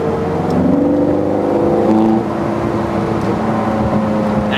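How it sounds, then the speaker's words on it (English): A Ferrari F430 Scuderia's engine, with its active dual-stage exhaust, revs steadily from inside the car, its tone rising and dropping through rapid F1 gearbox shifts; loud and continuous. "Active exhaust, dual stage exhaust."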